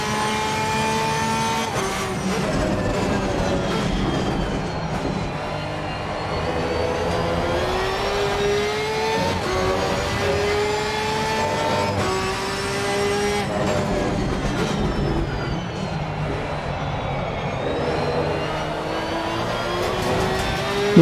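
Porsche 992 GT3-R race car engine in a racing video game at the Valencia circuit, loud and continuous, revving up and down through gear changes as it laps.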